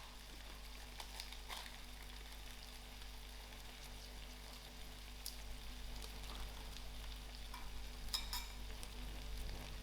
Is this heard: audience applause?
no